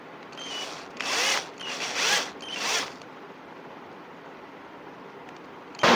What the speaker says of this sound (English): Then you make a drill hole.